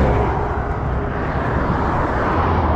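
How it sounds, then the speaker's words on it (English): Steady, loud motorway traffic roars past on the M4 beside an emergency refuge area, a dense continuous rumble with no break. "See that traffic noise."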